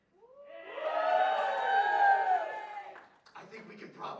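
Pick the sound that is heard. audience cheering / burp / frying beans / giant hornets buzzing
audience cheering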